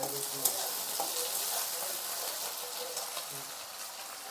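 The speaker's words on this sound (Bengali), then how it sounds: "দিয়ে আলুটাও একটু ভেজে নেব ভালো করে" Long potato strips fry in hot oil, giving a steady, moderate sizzle close by with a few light stirring knocks and no talk.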